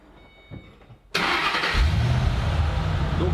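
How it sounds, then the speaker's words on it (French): A 2006 Ford Mustang with an upgraded camshaft and side-exit exhaust cranks over and fires, settling into a loud, deep, lumpy idle close by after a moment of quiet handling noise. "Et en termes de sonorité, ça doit être assez sympa, donc on va démarrer ça pour voir."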